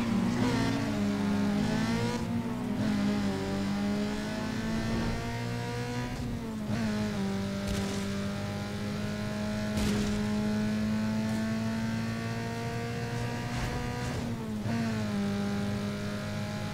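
Race cars from the video game Need For Speed Underground 2 scream along at full throttle on a sponsored airport race. A loud, steady engine whine climbs through the gears, with brief dips at each shift and occasional tire noise.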